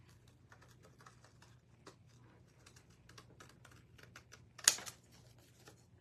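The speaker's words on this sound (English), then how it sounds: "So I'm going to go right along the edge of this. Wish I had smaller scissors." Scissors cut along the edge of a paper shape with soft, quick snips and crisp ticks at close range, ending in one sharper louder snip near the end; quiet room with a faint low hum.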